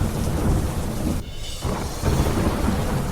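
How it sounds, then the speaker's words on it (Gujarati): Heavy monsoon rain pounds down in Modasa, Aravalli, a dense, continuous roar close by with thunder rumbling under it. The noise briefly thins before the downpour swells again, with no voices. "અરવલ્લીના મોડાસામાં વરસાદ ધોધમાર વરસાદ વરસતા મોડાસાના મેઘરજ રોડ પર પાણી ભરાયા"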